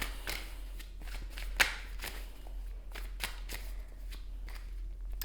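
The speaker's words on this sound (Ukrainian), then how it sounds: "Ой, щось вже вилітають карти." Tarot cards riffle and slap in a series of quick, soft shuffling bursts over a low steady hum, close and fairly quiet.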